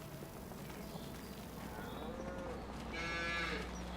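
Cattle on a farm moo, a drawn-out low call rising near the end over a constant background rumble and faint shuffling of hooves, fairly quiet and distant.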